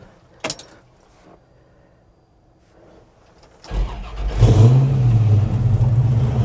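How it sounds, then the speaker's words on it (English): A click and a short rattle, then a car engine with a custom dual 3-inch exhaust cranks, catches and revs up before settling into a loud, steady idle nearby. "Fires right up."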